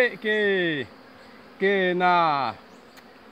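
Bees buzzing around a honey hive as the lid is opened, two long droning passes with a falling pitch, close and loud, with someone speaking briefly.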